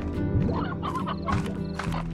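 Hens in the Slime Rancher video game cluck in a close, busy series of throaty bawks and rising squawks, several calls overlapping over a low steady background hum.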